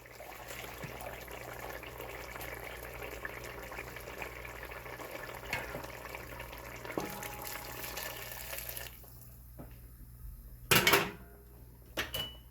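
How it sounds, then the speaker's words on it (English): Hot water streams steadily into a pot of Caribbean curry goat for several seconds, a continuous close pour that stops abruptly, followed by a few brief clanks and knocks of the pot. "let me add about 2 cups of water, hot water,"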